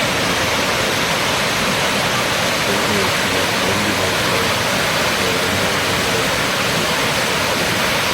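Courtallam waterfall in Tamil Nadu, a dense, steady roar of falling water filling the whole soundscape without a break, loud and close, with no voices rising above it.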